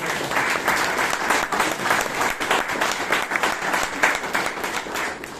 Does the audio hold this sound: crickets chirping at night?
no